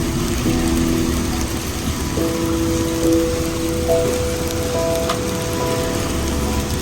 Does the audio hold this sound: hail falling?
yes